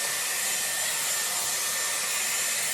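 A Dyson Airwrap hot air styler with a round brush blows steadily and close, a constant high whooshing hiss without pauses or speech.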